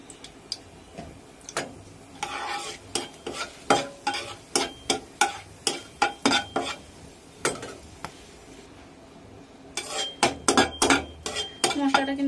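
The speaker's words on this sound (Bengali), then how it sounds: "মশলাটা কিন্তু আমার ভাজা হয়ে গেছে।" Whole spices, bay leaves, cinnamon and cloves frying in oil are stirred in a pan, with repeated sharp scrapes and clanks of the utensil on metal over a low sizzle, pausing briefly before a quick burst of stirring.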